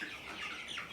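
Broiler chickens raised in a low-budget organic setup cluck in a steady, dense flock chatter that fills the whole moment at moderate level, with no voices over it.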